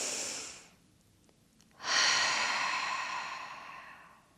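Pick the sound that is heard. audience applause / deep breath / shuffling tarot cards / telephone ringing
deep breath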